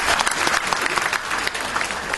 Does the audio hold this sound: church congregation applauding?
yes